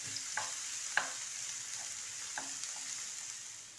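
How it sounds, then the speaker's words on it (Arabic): Chopped onion pieces fry steadily in a pan, giving a continuous, fairly quiet sizzle with a few brief stirring clicks and pops, and no voices. "ونبداو نقلو في البصل ديالنا وندبلو فيه"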